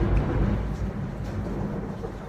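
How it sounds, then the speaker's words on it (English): A loud, deep thunderclap rumbles through a storm, a sustained low roar with rain hiss underneath that slowly eases. "Huge thunder."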